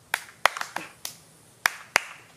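Hand claps for a film slate, six sharp, uneven claps spread across a couple of seconds on a quiet set, close and fairly loud with short gaps between them.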